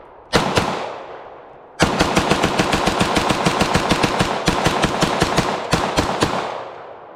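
A B+T SCW APC9K carbine fires one shot, then after a pause empties the rest of a 30-round magazine in rapid, closely spaced, loud shots with brief breaks, close to the shooter outdoors.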